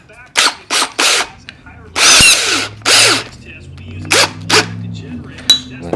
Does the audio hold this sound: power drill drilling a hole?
yes